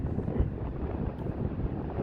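The sea at Watergate roars on a windy winter day, a continuous broad rumbling wash buffeted by wind gusts on the microphone, with no voices.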